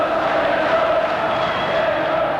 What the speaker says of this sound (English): Crowd getting behind Wales